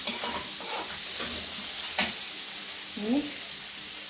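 Onion and tomato for egg Maggi fry in a pan with a bright steady sizzle, punctuated by several scraping stir strokes, close up, while a voice murmurs briefly near the end.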